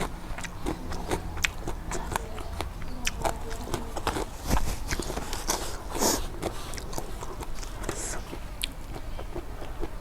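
Crunchy, spicy cow foot salad is bitten and chewed close to the mic, with a run of repeated crisp crunches and chewing sounds over a low background rumble.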